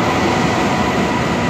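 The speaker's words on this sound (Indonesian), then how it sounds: "1382 BD kereta api Argo Parahyangan" Argo Parahyangan passenger train passing at Manggarai station, a steady loud rumble of wheels and carriages filling the whole moment without speech.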